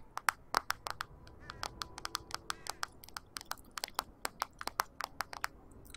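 Fingertips tap and click on the bare back of a phone held without a case, a quick irregular series of sharp close taps in small bursts, quiet and crisp.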